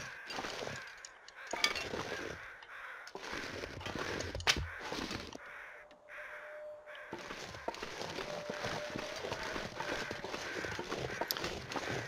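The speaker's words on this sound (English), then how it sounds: "So I hear some birds" Birds, crows by the sound of them, caw now and then in a cold, foggy outdoor scene in the survival game The Long Dark. The calls are fairly faint and sit over wind and crunching footsteps through snow.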